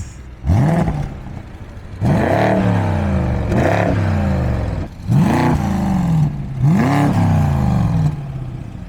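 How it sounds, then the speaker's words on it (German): A BMW 650i's 5-litre V8 engine revs hard four times in a row, each blip rising and falling back to a throaty idle, loud and close. "Das ist noch Hubraum, 5 Liter Maschine."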